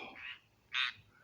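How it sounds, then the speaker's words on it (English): A frog gives two distinct croaks close by, the second louder and sharper, separated by a short quiet gap. "Oh, be quiet, Mr. Frog."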